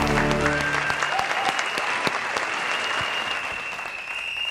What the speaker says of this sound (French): Applaudissez déjà pour ça.